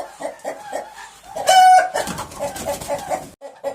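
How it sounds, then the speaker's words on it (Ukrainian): Farmyard chicken clucking in short bursts, with a louder squawking outburst midway, close to the microphone on a rainy evening. "Виганіть оту курку."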